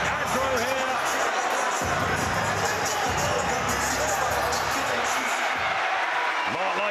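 A big crowd of Welsh fans roars continuously around a boxing ring at a grudge fight, with loud, dense cheering and a commentator talking over it.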